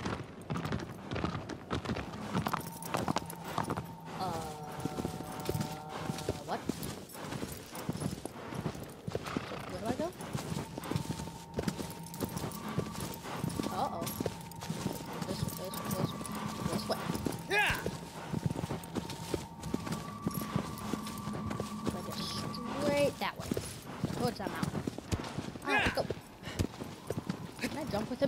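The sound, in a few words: horse hooves clip-clop in video game Shadow of the Colossus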